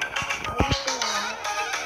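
A phone ringtone chimes in a short melodic burst of tonal notes, fairly close, with game chatter and background noise around it during a casual gaming session.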